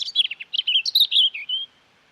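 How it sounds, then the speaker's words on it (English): A robin sings a short, bright song of rapid warbling phrases and trills, close and clear against silence, ending in a sustained high note. "This is the Song of a Robin."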